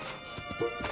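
Several quick hoof clip-clops in an even rhythm, like a trotting horse, over a steady tonal background, in the video game The Legend of Zelda: Tears of the Kingdom.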